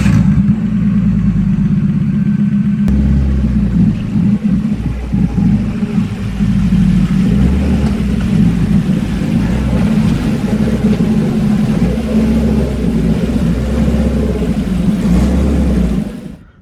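BMW E30 with a turbocharged M52 24-valve engine, built for drifting, rumbling loudly up close as it is driven onto a trailer, a deep, steady engine drone that fades out at the end.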